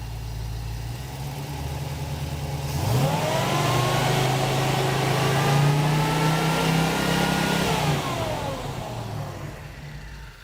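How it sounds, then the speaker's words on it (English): A car engine with Sniper EFI and a magnetic pickup distributor idles, then revs up and holds at higher RPM for several seconds before settling back down, loud and close with no talking. "I had my buddy rev the engine up a little bit."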